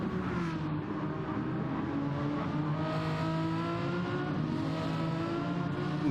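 A race car brakes into a tight hairpin and then accelerates hard out of it, its engine note dropping and rising through the gears. The sound is steady and fairly close, with strong harmonic engine tones and no voices.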